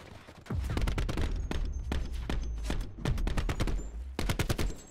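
Sharp, repeated gunshots from a Call of Duty esports match at CWL Fort Worth, firing in quick irregular bursts over a low rumbling backdrop, moderately close and distinct.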